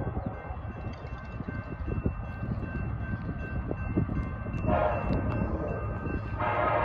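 A freight train locomotive coming from Sacramento rumbles past steadily at close range, its low mechanical roar building slightly, with short bursts of higher squealing noise near the end.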